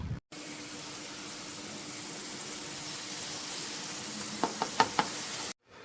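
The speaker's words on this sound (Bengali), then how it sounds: "লবণ দিয়ে পেঁয়াজ লাল করে ভেজে নিচ্ছি" Chopped onions fry with a little salt in oil in a pan, giving a steady, soft sizzle throughout, with a few sharp knocks of a utensil near the end.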